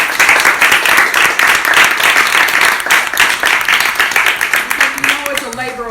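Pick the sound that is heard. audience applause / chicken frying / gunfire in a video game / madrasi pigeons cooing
audience applause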